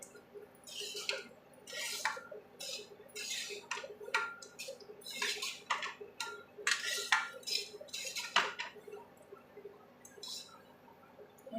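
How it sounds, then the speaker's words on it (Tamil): Lemon rice stirred in a pan with a metal spoon, giving repeated scraping and clinking strokes in an uneven rhythm, close and fairly quiet. "நல்லா கிளறி விட்டுக்கலாம்."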